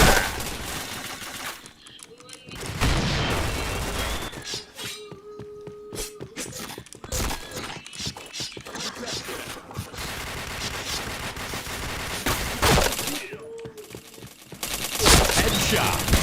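Repeated bursts of automatic gunfire in a team-based shooter video game, loud volleys separated by short pauses, with in-game announcer voice callouts and scattered effects between shots.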